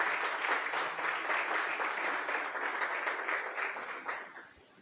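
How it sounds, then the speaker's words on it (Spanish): A church congregation applauding steadily for several seconds, a dense wash of many hands clapping that fades toward the end, with a faint voice underneath. "Dale un aplauso al Señor"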